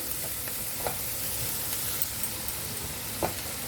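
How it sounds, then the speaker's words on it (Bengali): Ginger paste fries in hot oil in a pan for a Bengali doi katla fish curry: a continuous, even sizzle and hiss, close by, with a few faint taps of stirring. "আদা বাটাটাকে ভালো করে ভাজবো।"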